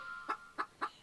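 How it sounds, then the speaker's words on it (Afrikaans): A chicken clucks four times in a steady, evenly spaced rhythm, fairly close but moderately quiet over a faint background hum. "Dit is 'n hoender."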